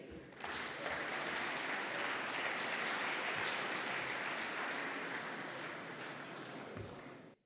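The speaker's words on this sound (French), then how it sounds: "Merci de l'applaudir." A French audience applauds to welcome a speaker: a steady, full wash of clapping from many hands, starting suddenly and holding at an even level before cutting off.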